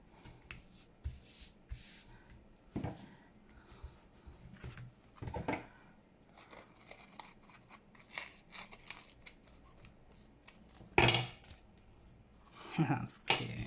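Scissors cut paper for a handmade purple folio in a run of short, close snips and crisp rustles, with a few louder cuts near the end; a voice talks softly now and then.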